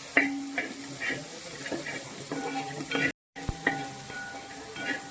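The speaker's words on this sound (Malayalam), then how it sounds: "ഇനി ഇത് നന്നായിട്ട് നമ്മൾ ഇളക്കി ചേർക്കണം" Prawn fried rice with chopped cabbage being stirred in a hot pan, a continuous sizzle with repeated scraping strokes and a brief dropout midway.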